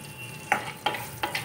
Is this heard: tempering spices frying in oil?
yes